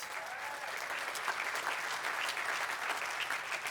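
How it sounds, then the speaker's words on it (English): Sustained audience applause at a charity gala, a steady, even wash of many hands clapping at moderate distance throughout. "Let's give them a round of applause."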